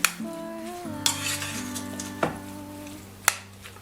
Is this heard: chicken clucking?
no